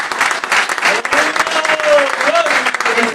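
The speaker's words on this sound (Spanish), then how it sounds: "Bríndele fuerte el aplauso al Señor." A church congregation claps loudly and continuously during a service, with voices calling out and shouting over the dense applause.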